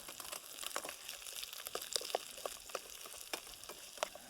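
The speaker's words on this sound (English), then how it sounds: "something nice about smelling frying onions" Onions frying in a pan on a Trangia camping stove, a steady close sizzle with scattered crackles and pops, no talking.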